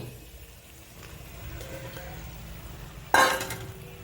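Chopped onion and other breakfast ingredients are tipped into a frying pan: a quiet kitchen background, then a sudden sharp sizzle and clatter as they land, settling into softer frying.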